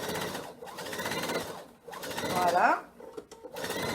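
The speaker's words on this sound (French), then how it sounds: "je vais me faire une petite piqûre nervure pour maintenir la pochette fermée" A domestic sewing machine runs in short bursts while stitching a fabric mask pocket shut, its motor whirring near and moderately loud between pauses, with someone talking over it in French.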